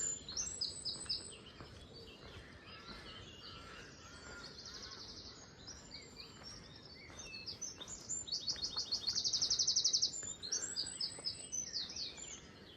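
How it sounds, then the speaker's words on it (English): Wren singing loudly outdoors along a roadside on the Isle of Wight, rapid trilling bursts that repeat and swell louder toward the end, with other birds chirping more faintly around it and no talk. "Loud wren."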